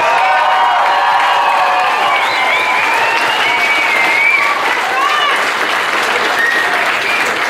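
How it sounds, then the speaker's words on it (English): Sustained applause from an arena crowd at a boxing match after a close bout, a dense steady wash of clapping with cheering mixed in and a voice heard over it. "let's give them one more round of applause"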